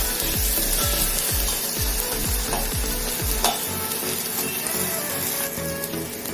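Tomatoes cook down in a pan for Valachi Curry, a loud, steady sizzle with repeated rhythmic scraping strokes of a spatula early on, then a softer continuous frying hiss.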